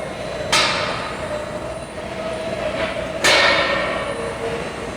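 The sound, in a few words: pulling pins on an agitated tilting kettle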